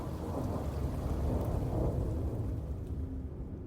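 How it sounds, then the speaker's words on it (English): Steady heavy rain hisses over a low rolling rumble of thunder as skies darken in the Bavarian Alps near the Berghof, continuous and fairly close, with no voices. "It starts to rain."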